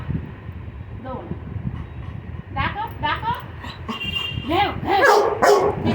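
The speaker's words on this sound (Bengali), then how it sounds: "দেখো ঘেউ ঘেউ ডাকো ডাকো বুড়ো ডাক" A Labrador Retriever gives a handful of short, high yelping barks and whines close by, mixed in with a person talking.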